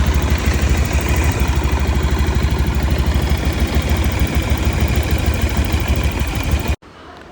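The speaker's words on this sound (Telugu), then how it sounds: "ఇప్పుడు మన వెహికల్ స్టార్ట్ చేసి మన ఇంజన్ సౌండ్ ఎలా ఉందో చెక్ చేద్దామండి" A used two-wheeler engine runs loudly and close with a steady, even idle for several seconds, then cuts off abruptly into near silence.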